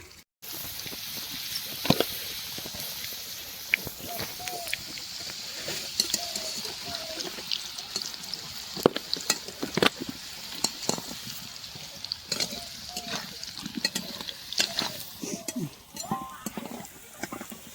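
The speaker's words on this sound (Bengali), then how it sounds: "মাংসের আলুটা একটু ভাজা করে নিই, তেল দিয়ে দিয়েছে কড়াইতে।" Potatoes fry for meat curry in hot oil in a kadai, giving a steady sizzle with frequent spatters and stirring scrapes throughout. Someone talks over the cooking.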